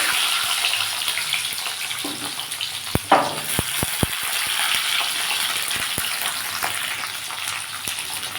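Green chillies dropped into hot oil for a hog plum pickle, giving a steady bright frying sizzle with a few sharp crackles and pops partway through, close and continuous throughout.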